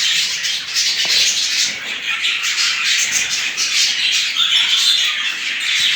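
Several budgerigars in a cage chirp and chatter continuously, a dense, busy twittering held at steady loudness throughout with no voices.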